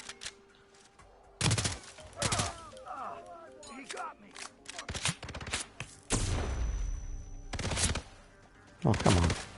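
Rifle gunfire in the game Hitman 3, with several loud bursts of shots scattered between quieter stretches, while a voice talks in the gaps between them.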